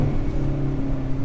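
A Hyundai Veloster N with an AEM cold air intake holds a steady drone near 3,000 RPM in second gear, a low, even engine hum heard close from inside the car.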